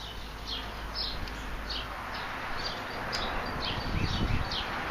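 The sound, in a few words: birds chirping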